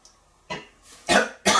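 Three harsh coughs from one person come in a quick uneven series, close and loud, with short quiet gaps between them.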